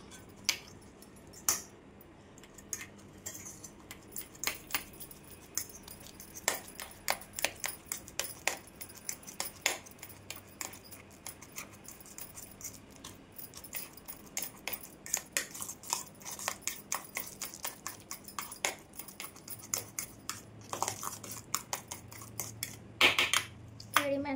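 Ripe bananas mashed in a bowl for pancakes, a run of close, irregular clinks and scrapes of a utensil against the bowl, quickening toward the end, with no voices.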